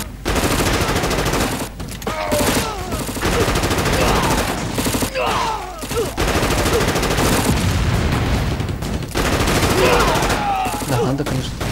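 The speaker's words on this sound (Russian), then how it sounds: "танк пошел вперед на артиллерию" Continuous artillery and gunfire from a tank assault in a strategy video game, dense rattling volleys and booms filling the whole stretch, with a player talking over the battle.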